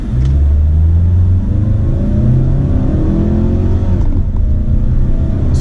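A 2018 Mazda CX-5 in sport mode accelerates hard, its engine revving loud and close with a steady rising rumble and whir. No one speaks over it.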